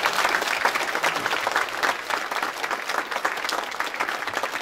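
A dinner crowd gives warm, sustained applause for Mother Kong, many hands clapping densely and evenly for nearly five seconds with no voice on top.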